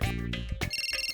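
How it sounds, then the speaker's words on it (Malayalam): A phone rings with a bright, repeating electronic ringtone in short, steady pulses, clear and close; a brief tonal musical phrase comes first. "സ്വിച്ച് ഓഫ് ചെയ്ത് വച്ചതിന് ശേഷവും ഫോൺ ബെല്ലടിക്കുകയാണല്ലോ."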